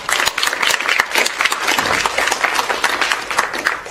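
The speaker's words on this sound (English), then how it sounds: "I would like to give them a round of applause." Audience applause for the speakers and panelists at a COSME info day session, dense steady clapping from a crowd lasting the full four seconds with no voices over it.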